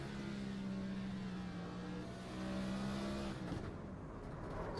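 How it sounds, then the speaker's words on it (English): A NASCAR Cup race car engine in iRacing roars steadily at close range at New Hampshire, then its pitch drops and the sound cuts back as the car brakes and the engine is shut off. "you hear him getting the binder, shut the car off, trying to get it stopped"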